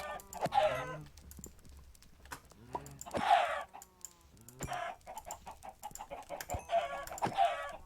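Video game chickens cluck and squawk in several scattered bursts, fairly close, mixed with light clicking of a computer keyboard, and no speech.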